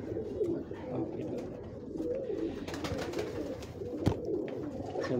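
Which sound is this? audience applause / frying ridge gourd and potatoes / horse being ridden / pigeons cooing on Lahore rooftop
pigeons cooing on Lahore rooftop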